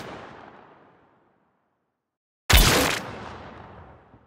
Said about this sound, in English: And so altogether, those make the complete gunshot.